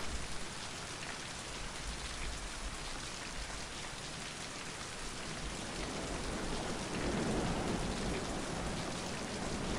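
Heavy rain in a video game pours steadily in a dense, continuous hiss, growing slightly louder near the end, with no voices.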